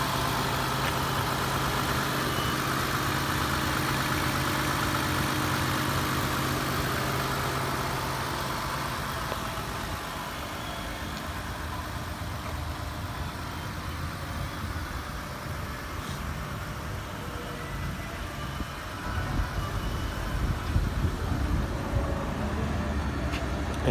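A 2013 Lexus GS350 engine idling, a steady low hum that continues without a break and sits fairly quiet throughout.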